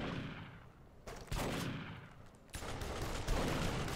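Gunfire in a Duke Nukem multiplayer video game, with loud sustained bursts of rapid firing broken by sharp onsets and brief lulls, all set against a dense, noisy game soundscape.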